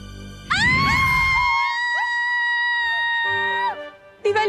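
A woman lets out a loud, shrill, sustained scream lasting about three seconds, close and wavering in pitch, followed by a brief cry after a short gap.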